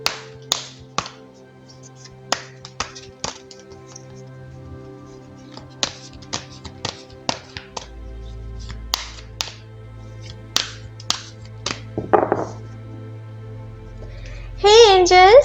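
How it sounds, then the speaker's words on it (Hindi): Tarot cards shuffled by hand in a series of sharp, scattered taps and flicks, close and fairly quiet, with a low hum underneath and a short burst of speech-like sound near the end. "पहले ज़रा कार्ड्स को शफल कर लेते हैं।"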